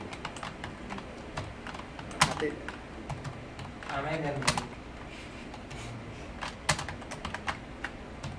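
Scattered keystrokes tap on a computer keyboard as a slide title is typed in PowerPoint, with quick clusters of clicks alongside someone speaking quietly in Bengali.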